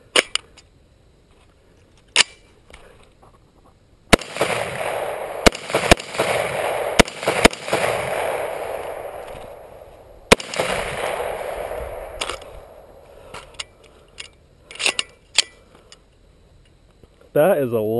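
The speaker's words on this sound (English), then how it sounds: "That is a light shooting gun." AR rifle gunshots ring out during sighting-in at an outdoor range: sharp, loud single reports spaced irregularly, some followed by echoing tails, with people talking between shots.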